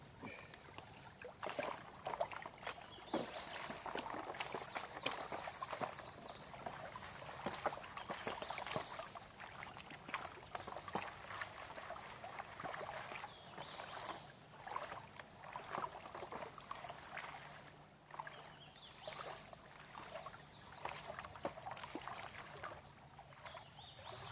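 Dirt being panned in water at a forest digging site: faint sloshing, swishing and trickling with irregular splashes and gritty scrapes throughout, quiet and close, no voices heard.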